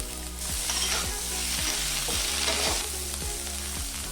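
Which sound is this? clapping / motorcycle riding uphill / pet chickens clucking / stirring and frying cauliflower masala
stirring and frying cauliflower masala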